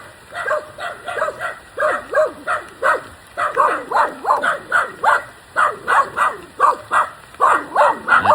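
A dog barks repeatedly in a steady run of sharp, close barks, with some yipping, and a person speaks faintly in the background.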